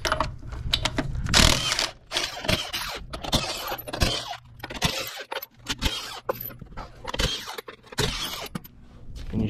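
Removing 1 1/16 inch lug nuts from a Ford F350 dually rear wheel: close, busy metallic clanking, ratcheting and clattering of tools and nuts, irregular and continuous throughout.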